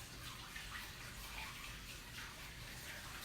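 Radishes rinsed under a running kitchen tap, a steady close rush of water splashing without pause for a few seconds, with no talk.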